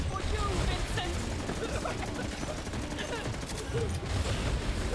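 Dense rapid gunfire in Borderlands 3 on Mayhem 10 pours at the boss Eleanor, a continuous loud fusillade of overlapping shots and impacts with game effects throughout.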